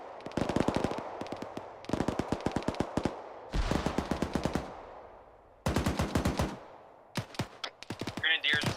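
Bursts of rapid automatic gunfire in quick volleys, loud and close, with brief gaps between them and a few scattered single shots, game audio from Arma 3.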